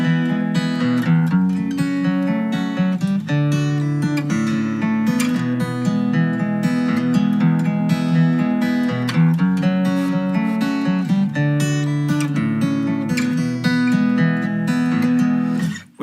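Two interwoven guitar parts play a song, with busy picked notes running continuously over steady lower chords, loud and clear with no talking.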